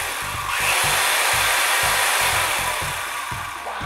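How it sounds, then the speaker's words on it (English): A 48-volt DC chainsaw runs directly off a power bank, its motor whining in a loud, steady buzz while the chain chatters in a rapid regular pulse, close by with no talk. "You can run a 48 voltage DC chainsaw by directly using the power bank."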